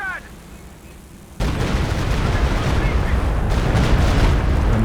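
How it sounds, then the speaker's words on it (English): A Stuka rocket artillery barrage in Company of Heroes 2 lands as a sudden loud, continuous roar of overlapping blasts. It starts after a quieter stretch and keeps rumbling heavily to the end. "here comes the walking Stuka"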